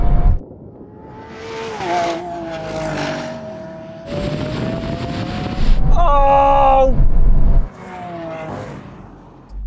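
Lamborghini Aventador and a 700hp Audi RS7 accelerate hard in a drag race, engines roaring and climbing in pitch through gear changes, one shift hanging in first, a loud high-revving surge midway, with voices under the noise.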